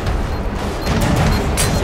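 Dense, booming gunfire fills a firefight in the video game F.E.A.R. 3, loud and continuous with crashing impacts and no clear gaps over a short burst.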